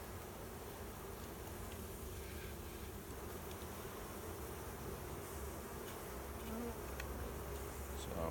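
Honeybees from an overwintered colony buzz steadily around an opened hive during a frame inspection, a dense, constant hum at moderate distance with no talk.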